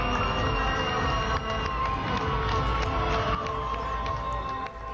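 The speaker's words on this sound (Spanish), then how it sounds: "miles de personas se la han estado pasando a lo grande, celebrando y vitoreando a la recién coronada campeona del mundo en el fútbol femenino" Large crowd celebrating newly crowned women's football world champions, a sustained roar of cheering and shouting voices with scattered whoops and claps, loud and continuous throughout.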